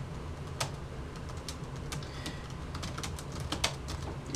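Fingers type steadily on a laptop keyboard, scattered light key clicks coming in irregular bursts, quiet and close, with no talk.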